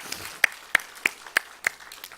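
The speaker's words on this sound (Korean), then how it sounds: "하나님 앞에 교회를 세워주시는 고마움으로 영광의 박수 올리겠습니다." A church congregation at a Sunday morning anniversary service gives applause, heard as six sparse, evenly spaced sharp claps at a moderate distance, fairly faint and without talk.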